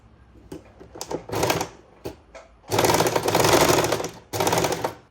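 A sewing machine stitches around the neckline of a child's pleated petticoat, with close, loud bursts of rapid mechanical whirring and chattering. Short runs come first, then a longer steady run with brief pauses between them and no talking.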